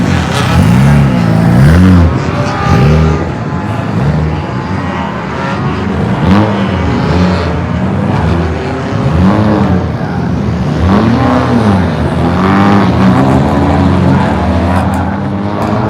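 A Honda Fit race car laps a circuit during qualifying, its engine note rising and falling in repeated sweeps as cars pass, loud and continuous with other racing cars around.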